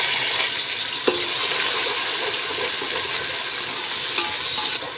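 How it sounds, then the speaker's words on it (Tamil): A ground paste of garlic, onion, green chilli and ginger fries in oil, a continuous close sizzle with occasional spoon scrapes and a brief clink near the start. "பச்சை வாசனை போகிற வரைக்கும் லைட்டாக வதக்கி விட்டுக்கலாம்"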